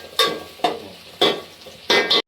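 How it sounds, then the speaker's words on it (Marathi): Green chillies and onion frying in a pan, with four sharp bursts of sizzle as they are stirred, close and moderately loud. "आता आपण या मिरच्या घेतल्या टाकूया."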